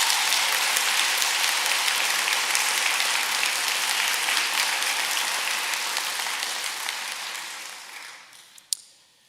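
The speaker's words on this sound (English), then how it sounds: "I think we should all give him a big round of applause in spirit" Sustained audience applause fills a 2023 Great Hearts high school graduation ceremony at FMC Irving, holding steady as a dense wash of many hands before tapering off near the end, with one sharp knock at the close.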